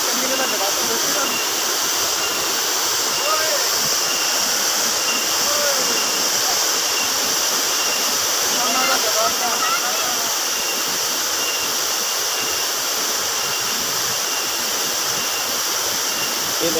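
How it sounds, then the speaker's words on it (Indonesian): Dolo waterfall in Kediri, East Java, pours as a continuous broadband rush of falling water, steady and loud throughout, with occasional faint voices beneath it. "yang berada di air terjun yang berada di Jawa Timur."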